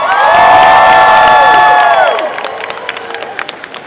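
A comic con panel crowd for a Sabrina the Teenage Witch reunion erupts in loud cheering and high-pitched screams. The screams fade after two seconds into scattered clapping and applause.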